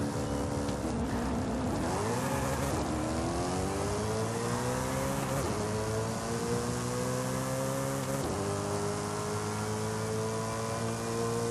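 Alfa Romeo 155 launching down a drag strip in Forza Horizon 5, engine revving loud and close as it climbs through the gears, with three distinct shift dips before a sustained high-pitched drone to the end.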